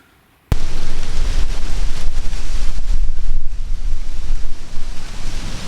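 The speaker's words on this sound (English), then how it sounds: "Real windy. I'm waiting on another gust of wind to come through" Strong, gusty wind roars across an open cornfield edge in Missouri during a rifle deer hunt, a loud, steady buffeting rush against the microphone that bursts in suddenly and blows without a break.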